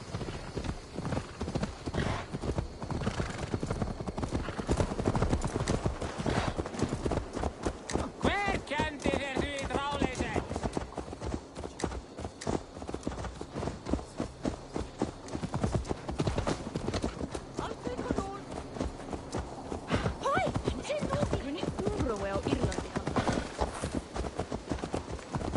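In the video game Assassin's Creed Valhalla, a horse's hooves clip-clop in a brisk, steady rhythm throughout, with a whinny partway through and occasional voices over the hoofbeats.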